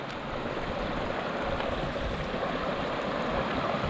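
Diverted stream water rushing steadily through a 56-inch Green Mountain Gold Trap Monster sluice, a continuous broadband wash of running water that stays constant and close throughout.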